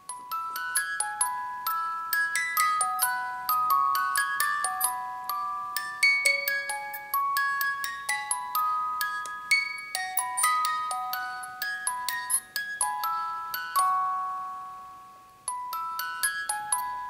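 A collector's edition diorama scene for the game Ni no Kuni II plays the main theme as a music-box-like melody of bright, chiming tinkling notes, clear and close, with no voices.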